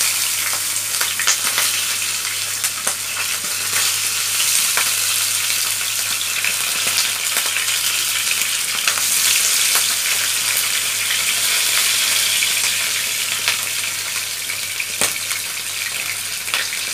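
Bata fish frying in hot oil in a pan, a dense, steady crackling sizzle with scattered pops, close and loud throughout.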